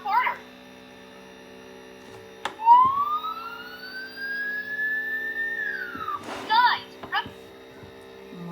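Toy car on a children's play platform sounds a warbling electronic siren, one long rising wail between short chirpy bursts, loud and close over a steady electronic hum.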